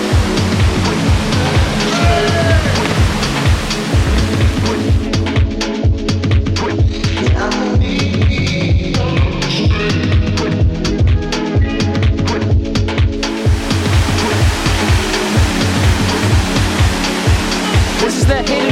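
A hidden waterfall roars loudly and constantly, a dense full-spectrum rush of falling water with a brief dip in the highest hiss midway.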